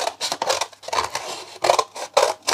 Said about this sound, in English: So just taking my scissors and cutting around.